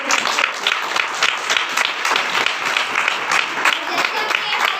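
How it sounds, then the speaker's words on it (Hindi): A congregation at a Sunday church service bursts into sustained, loud applause: dense, rapid hand clapping from many people filling the room, with voices mixed into the crowd noise. "उसके पाक रूह के लिए जोरदार तालियां करें।"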